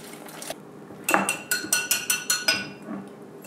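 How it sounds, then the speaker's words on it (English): Sweet potato batter being mixed in a bowl, heard as a quick rhythmic run of close utensil clacks against the bowl, about a dozen beats after a couple of scattered taps. "I'm gonna mix this up, and then I'm gonna fold the sweet potatoes into the mix."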